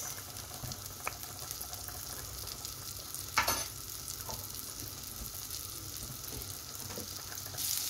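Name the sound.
butter sizzling in a pan before adding mushrooms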